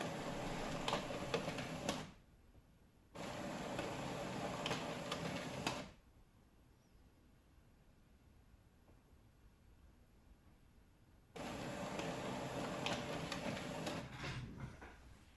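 A colour laser printer-scanner feeds and scans double-sided pages, giving three separate bursts of whirring mechanical noise with quiet pauses between them, heard up close.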